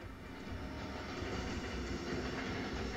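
A metro train in a video game rumbles past with a continuous loud, low roar and faint rhythmic rail clatter, steady for the full few seconds and without any voices.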